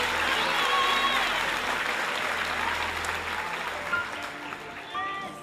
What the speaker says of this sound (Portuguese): Uma salva de palmas para esse povo que está lá fora